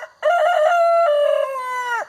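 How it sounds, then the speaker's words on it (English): A barred rock rooster crows once, loud and close, a full drawn-out call lasting about two seconds with no other sound. "that's my barred rock rooster, and he is mouthy"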